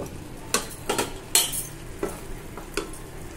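Ground cumin, coriander and chilli powder are stirred into a frying masala, with a few scraping strokes of a spoon against the pan over a soft sizzle. The sound is close and quiet.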